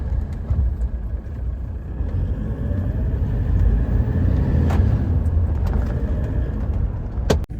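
A Toyota Fortuner idles with the air conditioning switched off, giving a steady low engine rumble heard from inside the vehicle, with a few faint clicks and a sharp knock near the end.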